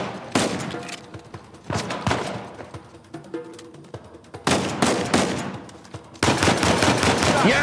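Heavy gunfire in Uncharted 4, with bursts of rapid automatic shots and sharp single reports in clusters, loud and close, a dense volley near the start, another in the middle and a sustained barrage at the end.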